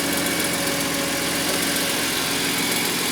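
A BMW M3 E46 CSL idles with a resonating exhaust, giving a loud, constant engine drone that holds steady throughout without any talking.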